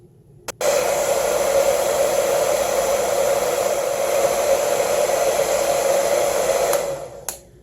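A Vaslon 1875W infrared ionic hair dryer switches on with a click and blows a loud, steady whoosh for several seconds before clicking off, producing no heat, with no talking.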